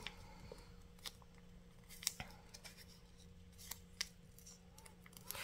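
Scissors snip fabric bunting flags in a quiet room, a few sharp crisp cuts spaced irregularly over a low steady hum, close and fairly soft.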